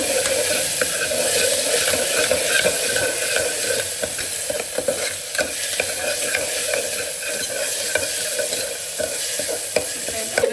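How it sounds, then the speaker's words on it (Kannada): Ginger garlic paste frying in a pan while being stirred for soya pulao, a steady loud sizzle with scraping stir strokes throughout, no voices. "ಇವಾಗ ಇದಕ್ಕೆ ಒಂದು 2 ಟೇಬಲ್ ಸ್ಪೂನ್ ಶುಂಠಿ ಬೆಳ್ಳುಳ್ಳಿ ಪೇಸ್ಟ್ ಹಾಕ್ತಾ ಇದ್ದೀನಿ. ಹಾಕ್ಬಿಟ್ಟು ಇನ್ನೊಂದು ಸ್ವಲ್ಪ ಸ್ಟಿರ್ ಮಾಡ್ಕೊಳ್ಳೋಣ."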